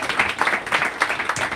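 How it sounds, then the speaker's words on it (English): A brief burst of audience clapping and cheering greets authors Isaac Fitzgerald and Tara Westover at a book event, the applause dense and lively. "please give me a huge hand in welcoming Isaac and Tara"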